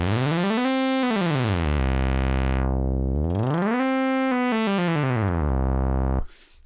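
A Stylophone Gen X-2 synthesizer plays a steady buzzy tone that glides up and down the keyboard, with the filter tracking the pitch so the sound brightens and darkens as it rises and falls, ending abruptly.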